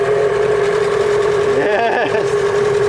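An outboard boat engine idles steadily at close range, its constant hum briefly wavering as it catches, then settles into an even running note.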